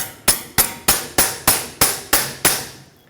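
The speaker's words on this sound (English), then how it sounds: "put a pry bar and hammer it right in the center" A hammer strikes a pry bar set into a drag link sleeve on a 2011-2016 Ford F-350, eight sharp metallic blows at a steady, even pace, loud and close with no talk.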